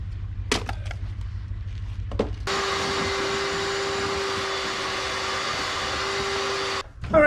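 A vacuum cleaner runs loud and steady while sucking out the bilge of a wooden boat, with a few knocks before it switches on and a clatter after it stops.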